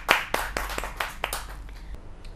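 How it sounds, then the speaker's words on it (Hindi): Scattered hand claps from a small audience at a Hindi poetry gathering, about eight distinct claps over two seconds that thin out and fade, with no voices. "बहुत ज़्यादा जोरदार तालियों के साथ, करतल ध्वनि के साथ स्वागत किया जाए"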